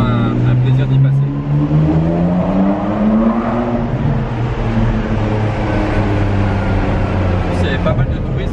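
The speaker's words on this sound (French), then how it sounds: "Le fameux tunnel de Formule 1 en Ferrari, toujours un plaisir de le prendre." A manual-gearbox Ferrari drives through the Monaco Formula 1 tunnel at an easy pace, its engine a loud, steady drone that rises gradually in pitch, heard close from inside the car.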